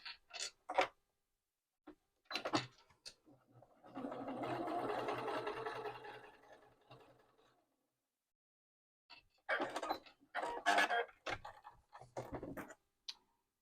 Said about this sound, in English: I am going to top stitch the edge of this piece as well.